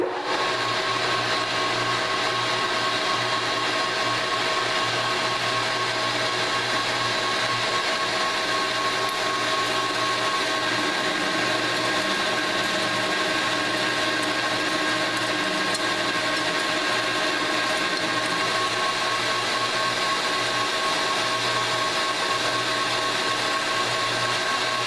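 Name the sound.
metal lathe cutting telescope screw stock in one pass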